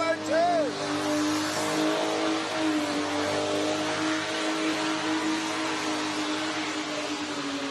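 A Holden 202 six-cylinder engine revs at a Summernats car show, a steady loud mechanical drone with a brief rising rev near the start, continuing under crowd noise and background chatter.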